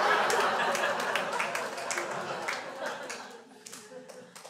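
Audience at a stand-up comedy show claps in a burst of applause that starts loud and gradually thins out to a few scattered claps.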